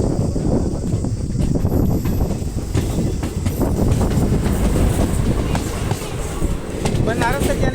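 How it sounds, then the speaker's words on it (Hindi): A local passenger train from Chhapra to Varanasi rolls past nearby with a continuous rumble and rhythmic clattering of wheels over rail joints, a faint squeal above, and voices underneath. "यहाँ से एक लोकल ट्रेन आ रही है पैसेंजर।"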